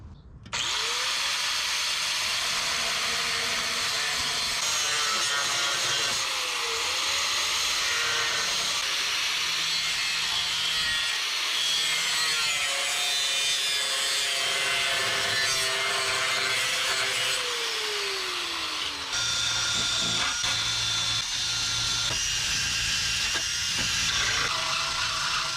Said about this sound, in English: So I'm gonna cut this exactly like the other side